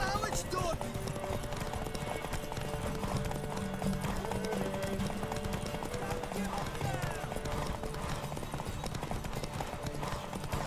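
Horse hooves clip-clop steadily in Witcher 3, with an occasional neigh, running beneath continuous game music and voices talking throughout.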